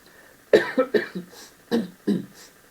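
A man clears his throat and coughs in several short, close, raspy bursts separated by brief pauses.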